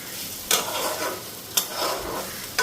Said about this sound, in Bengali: তো এদিকে সকালের খাবারটা বসাইলাম, আলু আর চাল কুমড়ো ভাজা